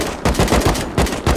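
Rapid bursts of gunfire in the video game Rust, several loud close shots in quick succession with a punchy rhythm, no talking during the burst.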